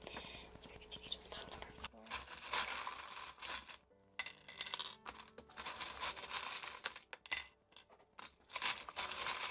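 Small metal charms clink and rattle as they are handled and dropped, giving a run of close, light metallic taps and scrapes with brief quiet gaps, and soft whispery voice sounds in places.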